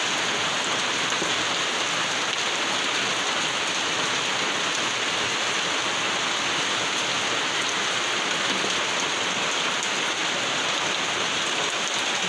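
Steady heavy rain pours down on a gray, windless morning, a dense continuous hiss of drops on surfaces with no breaks and no voices throughout.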